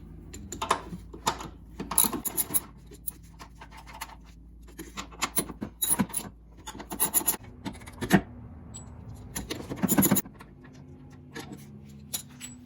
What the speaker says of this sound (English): First thing I'm going to go ahead and do is remove these two 16mm bolts to alleviate some of the pressure on the shock.